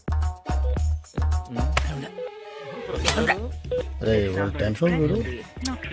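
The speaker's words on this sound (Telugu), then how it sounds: "ఫోన్ చేస్తాను" A few short dial-tone beeps at the start, like telephone buttons being pressed, followed by talk and a faint tone.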